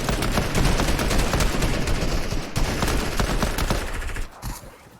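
A legendary pistol fires in a Fortnite match: rapid, dense bursts of gunfire with overlapping shots and game effects, tapering off near the end.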